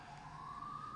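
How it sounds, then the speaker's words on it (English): A siren passing outside on a New York street, its steady wailing tone slowly rising in pitch, heard from indoors at moderate distance over low traffic rumble. "Hold for the siren, I guess."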